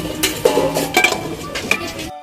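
A metal lid clatters onto a cooking pot of seafood with garlic, ginger and red onion, several sharp clinks and a rattle close by, then cutting off abruptly.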